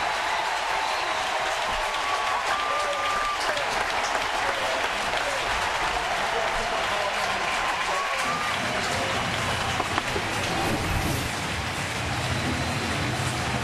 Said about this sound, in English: Just a squibbler off the end of the bat, and the crowd reacting in the right way.